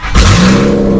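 A Ford Excursion's 6.8-litre V-10 with damaged heads fires up in a shop, a loud, close crank that catches at once and settles into a rough, steady idle roar.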